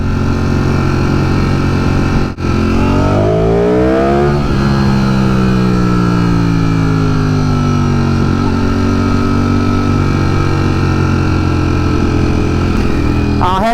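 A Ducati Streetfighter V4S motorcycle engine roars loudly while riding, revving up through rapid quick-shifted gears with rising and falling pitch sweeps, then holding a steady high drone before another gear change at the close.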